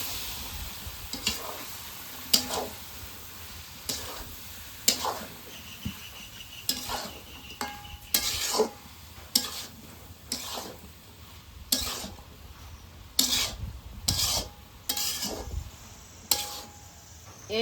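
Taro being stirred and fried alongside hilsa fish heads, with a low sizzle under repeated sharp clinks and scrapes of a spoon against the pot, close and uneven.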